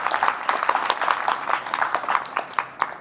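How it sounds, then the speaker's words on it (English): A smaller audience at a governance workshop gives a short round of applause, with distinct, uneven claps from a modest group heard fairly close over about three seconds. "let's give a round of applause to the experts here"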